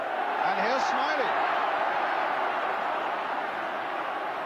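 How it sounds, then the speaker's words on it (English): A dense football crowd roars steadily in a stadium during a 1984 Brighton and Hove Albion versus Liverpool match, loud and continuous, with a commentator's voice briefly heard over it. "You should see the crowd down here now. And you should hear them."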